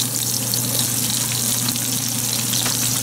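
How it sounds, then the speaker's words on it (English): Chilies, bay leaf and lemongrass frying in hot oil, a loud, dense and continuous sizzle close by with no pauses or voices. "And to this, I'll add the chilies, the bay leaf, the lemongrass"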